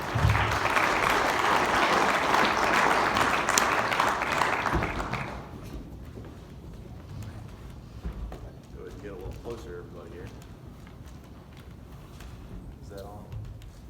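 Audience applause for the LuckStone speakers at a Carter Machinery event, loud and sustained for about five seconds before fading, followed by quieter room noise and someone talking.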